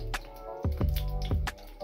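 Egg and gram flour batter poured into hot oil in a pan, giving a few short wet splats and drips followed by a soft squishy sizzle, close and fairly loud.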